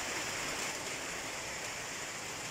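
Heavy rain pouring down during Typhoon Dante in Surigao del Norte, a dense, steady hiss of downpour with no breaks, fairly faint and continuous.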